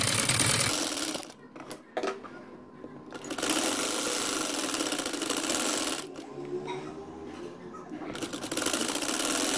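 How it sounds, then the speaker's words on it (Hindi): A sewing machine stitches the second side of a poncho in bursts of steady mechanical whirring, broken by short pauses. It runs close and fairly loud, with no talk over it. "अभी हम दूसरी साइड पे सिलाई लगा रहे हैं।"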